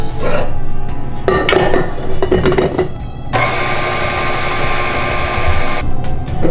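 A stand or hand mixer whirs steadily as it beats powdered sugar into frosting for gluten-free blackberry-filled cupcakes, a continuous loud motor drone with brief scraping and clattering against the bowl partway through.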